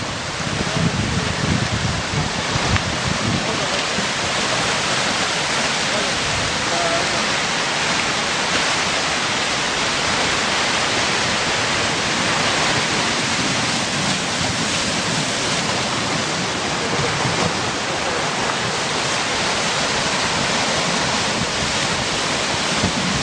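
Rushing river water during spring ice drift, a steady broadband roar close by with no clear individual ice impacts, continuous and unbroken throughout.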